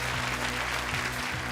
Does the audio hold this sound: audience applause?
yes